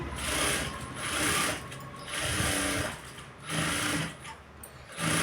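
A sewing machine stitches a lined blouse in short close-up bursts, its rapid mechanical clatter starting and stopping in a regular rhythm of pauses.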